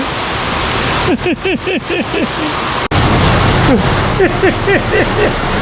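Light, steady rain falls outdoors at a home, a constant hiss running through the clip while voices and short tonal calls sound over it.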